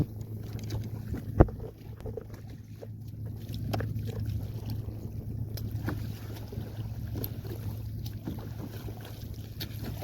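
A small sailing canoe moves through open water off Plymouth Sound, its hull giving a steady low wash and slosh broken by an occasional sharp splash, with wind buffeting the microphone throughout.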